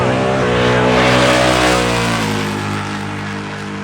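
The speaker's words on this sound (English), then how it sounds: "Randy Bellahar, the nitrous-fed 68 Pontiac Firebird on the right-hand side." A nitrous-fed 1968 Pontiac Firebird drag racing, a loud, roaring engine climbing steadily in pitch at full throttle, then dropping slightly as it shifts and pulls away.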